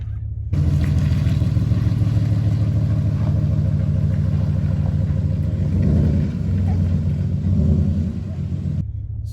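A lifted Ford F-150 truck drives along, its engine giving a steady low rumble with road noise that stays loud and close throughout, swelling slightly partway through as it picks up speed.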